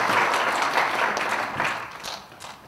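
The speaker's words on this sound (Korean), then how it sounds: "다음 박수 부탁드립니다." Audience applause during an appointment and plaque presentation ceremony at a police martial arts federation's 10th anniversary general assembly, a steady wash of many hands clapping that holds for the whole stretch and fades slightly toward the end.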